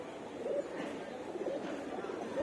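Pigeons at a sky-pigeon loft give faint, low repeated coos during a release. Soft murmuring voices and background noise sit underneath.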